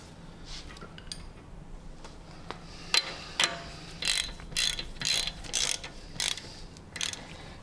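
A ratchet tightens a set screw on a car brake during an M-Performance brake upgrade on a BMW F30, with a series of crisp clicking bursts growing more regular toward the end, close and moderately quiet.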